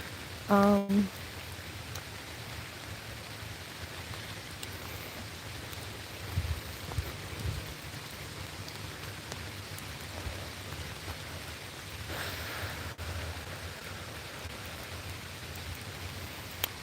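Light rain sprinkling outdoors, a steady soft hiss of fine drops that continues evenly throughout, with a brief tonal blip near the start.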